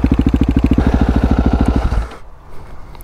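A Husqvarna 701 single-cylinder motorcycle fitted with a Wings exhaust idles with a loud, rhythmic thumping beat close by for about two seconds, then the engine cuts off and only faint background noise remains.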